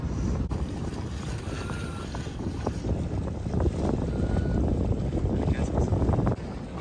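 Wind on a sailboat in a fjord, a steady low rumbling buffet of wind noise against the microphone with water and boat sounds underneath, loud and continuous.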